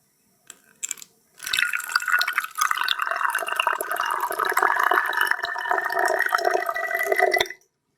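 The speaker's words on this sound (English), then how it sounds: "I'm gonna fill this bottle with the water I am having in this glass" Water poured from a glass into a bottle, a steady gurgling trickle lasting several seconds after a couple of brief knocks, close and clear with no talk over it.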